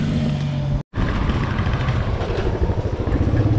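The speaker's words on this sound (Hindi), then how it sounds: "आज बहुत दिनों बाद बाइक में बैठ रहा हूँ यार" A motorbike ride along Changspa Road in Leh, with a steady engine drone and road and wind rumble heard from the saddle, loud and continuous apart from a brief dropout near the start.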